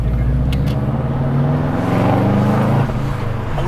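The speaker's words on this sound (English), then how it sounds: "I love a little night run in the city with this cool-ass JDM car" A JDM car driven fast through city streets at night, with a loud, continuous engine drone and road rumble heard from inside the cabin, the pitch shifting slightly as it accelerates.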